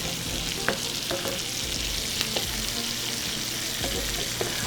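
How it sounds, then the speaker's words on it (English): Greens fry in a hot pan with a steady, close sizzle that holds throughout, dotted with small pops and crackles and the occasional stir. "Once we really start sizzling"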